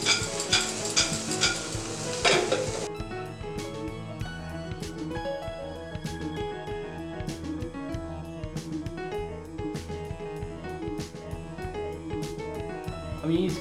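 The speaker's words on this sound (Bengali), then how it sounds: "বাদামটা দিয়ে জাস্ট 2 মিনিট মতো নেড়ে নিতেই হয়ে যাবে।" Fish pieces with peanuts are stirred in a hot pan for a home-made Kung Pao dish, giving continuous sizzling with repeated scraping and clinks of a spatula against metal, while a person talks over it.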